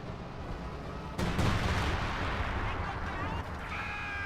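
Artillery shells land around a fleeing Su-85 tank during a 4v4 battle in Company of Heroes 2, a dense rumbling barrage with a sharp heavier impact near the start, continuous blasts and debris noise over a battlefield din.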